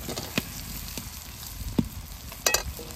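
Fried potatoes and jackfruit tipped into a hot pan of oil with salt and turmeric hiss and sizzle steadily close up, broken by a few sharp clacks of a utensil.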